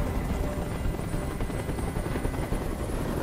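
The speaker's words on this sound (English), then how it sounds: "Tell that helicopter to get out of here." Loud, steady helicopter rotor and engine roar from the video game Detroit: Become Human, continuous and close throughout with no speech.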